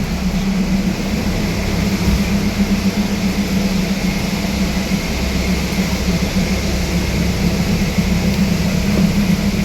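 A steady, loud engine drone of a Thai passenger train idling at a station before departure, a constant low hum with a faint tonal whine and no breaks.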